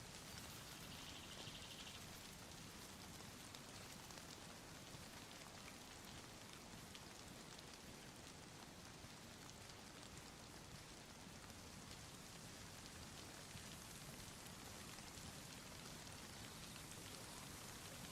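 Rain falling in the DayZ video game, a soft, steady, even patter that holds unchanged for the whole stretch with no voices over it.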